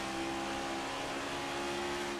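A race car engine drones at high revs in an iRacing Cup Series race at Phoenix, a loud steady engine tone with throttle held, alone without talk.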